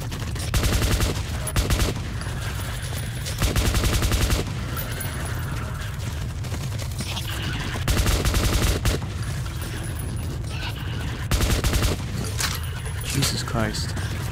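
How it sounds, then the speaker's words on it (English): Shotgun fire in the video game Metro 2033 Redux comes as several loud, separated bursts spread across the stretch, with in-game noise and someone talking in between. "Shotguns."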